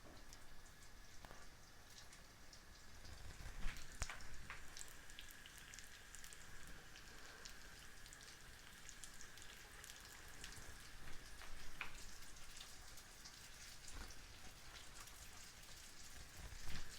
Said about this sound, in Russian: у нас уже разогрето масло на сковороде. Дырочкой вниз выкладываем наши беляши.